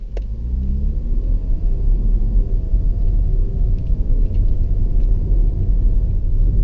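A 2016 Jaguar XE S with a 250 kW supercharged V6 drives along, heard from inside as a loud, steady low engine and road rumble with a gentle rise in pitch as it accelerates.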